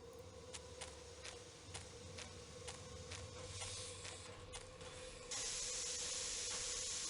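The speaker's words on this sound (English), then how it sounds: "This must be where the steam is escaping." Steam hisses steadily from a leak aboard the train in the Murder on the Orient Express video game, broad and continuous with a series of sharp ticks over a low mechanical hum, swelling louder near the end.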